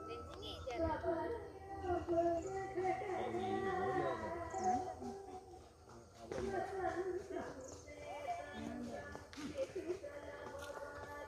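Hooves clip-clop as a horse is ridden fast on a road during riding practice in Kottarakkara, heard under steady talking and other background sounds.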